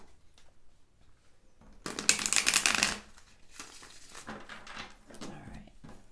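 Tarot cards shuffled by hand, a dense papery riffle that swells loudly for about a second, then softer intermittent card shuffling and slaps continuing alone with almost no talk.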